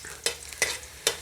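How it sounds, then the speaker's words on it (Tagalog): Garlic being sautéed in a pan for chicken curry, with three short scraping stirs against a soft, steady background sizzle, heard close up and with no talk. "Pag nagigisa ako bawang muna."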